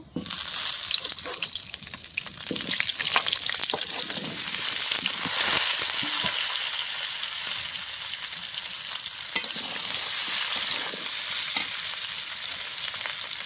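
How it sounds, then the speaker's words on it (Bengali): Cauliflower pieces, washed and cut, frying in hot oil for a Bengali rui fish curry, giving a steady close sizzle with crackling and occasional stirring throughout, no voices. "আমি এই তেলে এখন কপি কেটে ধুয়ে রাখা কপিটা ভেজে নেব।"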